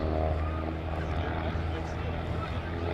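Steady propeller drone of a small airplane flying a comedy act at an airshow, loud and continuous, with crowd or announcer noise mixed underneath.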